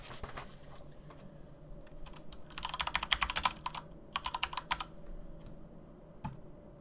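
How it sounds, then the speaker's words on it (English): Typing on a computer keyboard into a command prompt: quick clusters of close, crisp keystrokes come in a few bursts with short pauses between, ending with a single final key press. "we can type in ipconfig"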